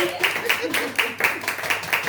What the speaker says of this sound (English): Please give Leah a round of applause and wish her